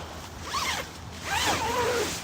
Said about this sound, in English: when you unzip it to get inside